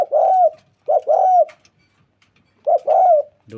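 A decoy dove used for trapping wild doves coos loudly and close, in three clear phrases separated by short silences, with no speech.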